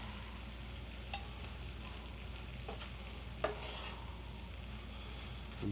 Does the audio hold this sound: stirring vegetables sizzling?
yes